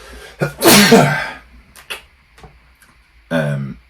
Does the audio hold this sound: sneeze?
yes